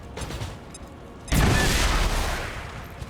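A grenade detonates in the XCOM 2 video game, a sudden loud, broad blast that cuts in after a quieter stretch and rumbles on for a couple of seconds before slowly fading.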